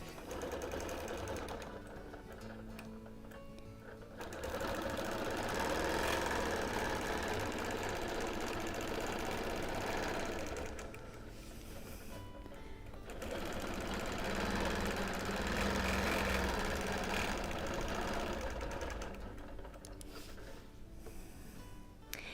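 A sewing machine doing free-motion quilting along a marked line on a whole-cloth quilt runs in rapid, continuous bursts of stitching, close and fairly loud, pausing briefly between runs.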